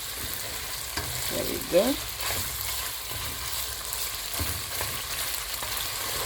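Pork frying in its own rendered fat in a pan makes a steady, close, crackling sizzle throughout, with a few stirring scrapes and a short spoken remark partway through.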